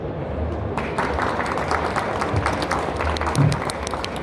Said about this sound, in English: I take your applause.